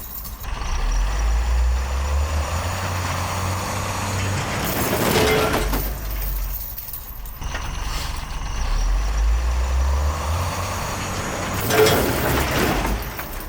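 A 5-ton M923A2 6x6 military truck straining to pull out a large tree stump, its diesel engine rumbling loudly throughout, with clanks, creaks and bursts of mechanical strain as the load tugs and shifts.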